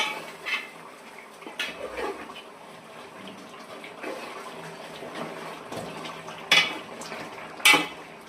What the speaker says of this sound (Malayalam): അഞ്ച് മിനിറ്റ് വേവിച്ചതിന് ശേഷം നമുക്ക് നന്നായിട്ടൊന്ന് ഇളക്കി കൊടുക്കാം